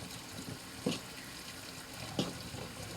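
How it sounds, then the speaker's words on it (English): A kitchen tap runs water into a sink, a soft continuous hiss with two brief splashes or clatters standing out over the steady flow. "I have the water running because, well, my hands are gonna be full of flour and butter"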